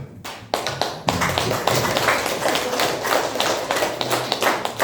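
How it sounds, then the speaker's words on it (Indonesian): An audience of teachers at a school seminar claps their hands together, a dense, loud patter of many hands that starts in scattered bursts and settles into steady applause. "barangkali saya ingin ibu bapak tepuk tangan saja"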